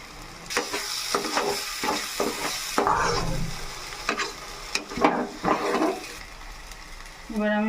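Ground cumin, coriander, Kashmiri chili powder, salt and turmeric hit a hot pan for katla fish kalia, with a sizzle and repeated stirring and scraping strokes that are close and fairly loud.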